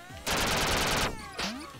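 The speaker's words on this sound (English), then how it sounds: "they're firecrackers." Firecrackers exploding in the video game Duck Game, a loud rapid burst of crackling pops lasting under a second, followed by a shorter second burst.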